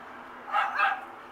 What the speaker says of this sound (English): That's a dog and the cats outside.